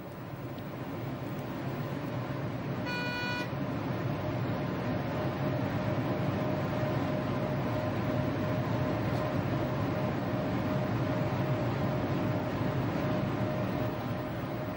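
A DB class 103 electric locomotive hauls a train along the Rhine past the Rüdesheim promenade, a steady rolling rail rumble throughout with a brief high tonal squeal early on.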